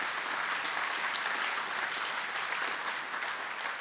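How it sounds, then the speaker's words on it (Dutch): Audience applause after an evening event honouring many participants, a dense steady wash of clapping held at even loudness throughout, alone without talk. "Applaus daarvoor misschien"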